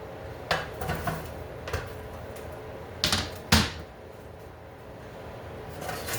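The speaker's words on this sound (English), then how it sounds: "gonna put them in the pan" Red potatoes are dropped into a pan one after another, making irregular sharp knocks and thuds with pauses between them against a quiet kitchen background.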